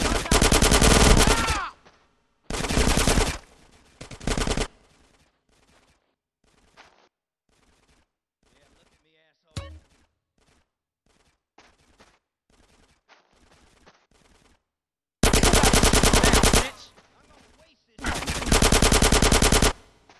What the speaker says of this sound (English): Get some suppressing fire in there.